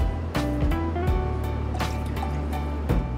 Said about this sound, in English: I'm gonna pour a little tequila